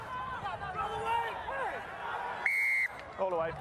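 A referee's whistle sounds once, a steady shrill blast of about half a second during a rugby World Cup qualifier between the USA and Uruguay, set against constant crowd murmur and other fainter whistles.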